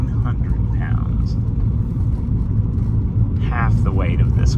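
A 1988 Porsche 928 S4 on the road, a steady low engine rumble heard from inside the car, continuous beneath a person talking.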